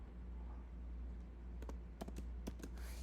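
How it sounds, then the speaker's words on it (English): Brief bursts of key taps on a computer keyboard while HTML tags are typed, a few quick clicks over a quiet background hum. "let's just go ahead and type in a few tags"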